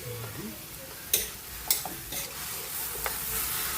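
Sweet potato leaves being stirred and sautéed in a hot pan with fish sauce, steady sizzling and frying throughout with sharp scrapes and clinks of the utensil against the pan at intervals.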